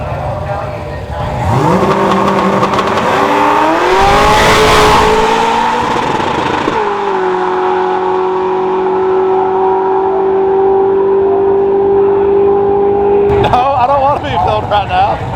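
Drag-racing streetcar making about 915 wheel horsepower on a pass, loud engine revving up through rising tones, a gear change, then a long sustained high-rpm drone before backing off, heard close with no talking.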